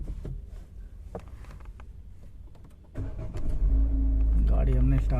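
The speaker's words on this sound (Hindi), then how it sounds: "गाड़ी हमने स्टार्ट कर दी है।" A Toyota Glanza car's engine cranks and catches, settling into a steady loud idle right after a few clicks and rustles, with someone speaking nearby.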